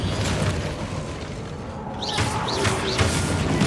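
A Confringo spell blast in Hogwarts Legacy: a dense, booming rumble that swells into a burst, with quick whooshing swirls rising near the end over steady game noise.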